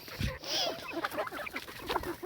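Soft, nearby clucking from a rooster, a few quick low calls against a faint outdoor background.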